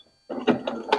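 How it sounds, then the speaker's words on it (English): A sewing machine runs a few quick straight stitches through knit fabric for a top, giving short mechanical bursts of close, moderately loud whirring with no talk. "I am straight stitching this."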